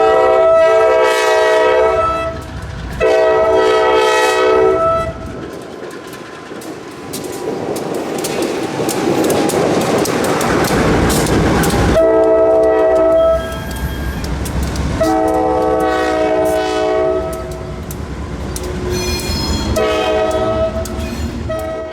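Pair of B40-8 diesel locomotives running light on the Pickens Railway in downtown Anderson, heading for the interchange: loud, close engine rumble throughout, with repeated blasts of the horn, the rumble swelling as they pass.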